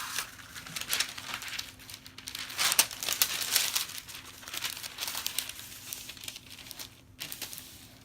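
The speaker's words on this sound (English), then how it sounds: "I'm actually going to take a piece of parchment paper" A sheet of parchment paper handled and crinkled by hand, giving close, irregular bursts of crackly rustling over a faint steady hum.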